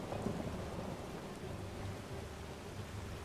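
Steady rain pours with a low thunder rumble in a nighttime thunderstorm in the video game Enderal, a constant wash of sound with no voices.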